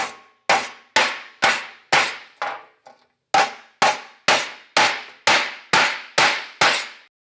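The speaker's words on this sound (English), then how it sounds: "I'm just going to use this ball peen because the welds are hard enough to actually" A ball peen hammer strikes a weld bead on a dolly in an automotive MIG welding job, ringing out in about a dozen loud, evenly spaced metallic clangs with a short gap midway.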